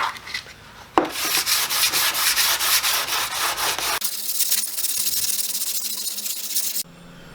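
Sanding Mercedes G-wagen fender flares by hand, rapid rhythmic rubbing strokes close up that stop, shift to a steadier scrubbing pass, then end abruptly.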